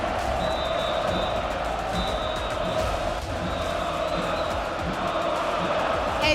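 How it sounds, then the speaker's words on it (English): A large esports arena crowd at a League of Legends LEC semifinal playoff cheers and roars in a steady, dense wash of noise, with a voice mixed in over the continuous crowd sound throughout. "And you hear them cheer for you right now, Super."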